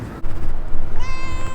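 A cat meows loudly and close by at dawn on a hotel rooftop in Cappadocia, Turkey, one drawn-out, rising call over a faint outdoor background.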